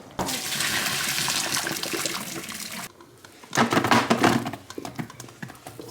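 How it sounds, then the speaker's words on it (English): Water poured off boiled cassava in a home kitchen, a sustained splashing rush for a few seconds, a short pause, then another burst of splashing pours. "So we're gonna pour the water out."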